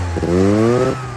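A Honda CB motorcycle with a single-rotor Wankel rotary engine runs close by, giving a loud, steady buzzing drone with a slight rising pitch.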